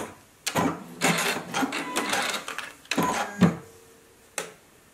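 A JUKI sewing machine top stitches the seams of a face mask in several short bursts of running, separated by brief pauses, close and clear with no talk.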